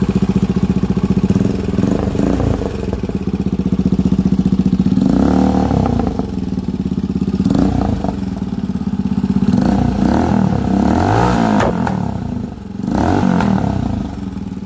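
A Motorstar Big Bike Cafe 400 motorcycle engine runs steadily and loudly throughout, a rough low idle with repeated throttle blips and revs rising and falling, close by with no talk.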